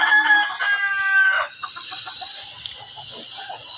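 Fighting roosters kept as pets crowing and clucking, a loud close crow at the start that trails off into softer clucks and calls, with high-pitched bird chatter underneath.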